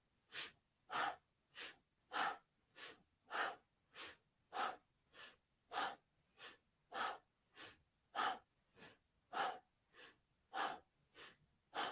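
Slow, steady yoga breathing, about twenty soft, airy breaths in an even rhythm of inhales and exhales, close and quiet with no talking.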